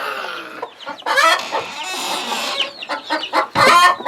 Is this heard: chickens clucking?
yes